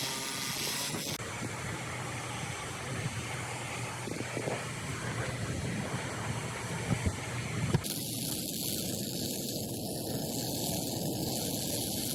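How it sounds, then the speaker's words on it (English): A powerful industrial waterjet sprays steadily to strip grease, dirt and metal scraps, a dense continuous hiss that shifts in tone partway through, heard alone with no talking. "Powerful waterjet removes grease, dirt, and metal scraps without scratching surfaces"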